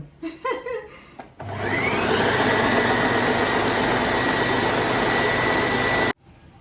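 An electric juicer presses fresh oranges, starting with a few clicks and clunks before a loud, steady motor whine runs for about five seconds and then cuts off abruptly.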